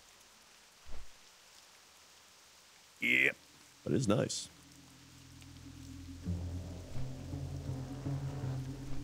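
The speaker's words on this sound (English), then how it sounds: "Ooh, it's raining." Soft, steady rain falls in the Swamp of Sorrows zone of a fantasy video game, a faint hiss running underneath throughout while a player speaks briefly and game music rises near the end.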